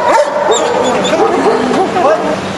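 A nine-year-old dog at a canine agility competition barks and yips close by, with whimpering, whining tones running continuously between the barks, loud and up front.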